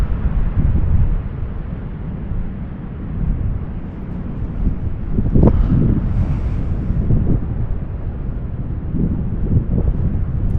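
Wind buffets the microphone over a constant roar of ocean surf at Grayland Beach, with waves rolling and breaking nearby.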